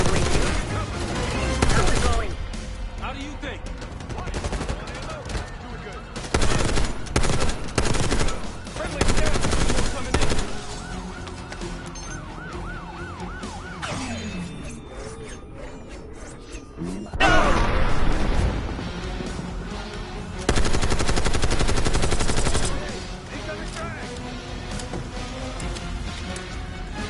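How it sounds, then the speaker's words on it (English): Machine gun fire in the Call of Duty: Black Ops 6 campaign, loud repeated bursts and rattling volleys over a dense game soundscape of explosions and impacts, with brief voices in between. "Machine gun."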